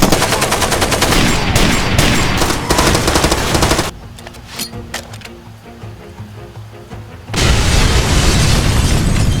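Rapid machine-gun bursts and booming explosions from a Far Cry combat montage, loud and dense at the start, dropping to sparse single shots mid-way, then surging back into heavy fire.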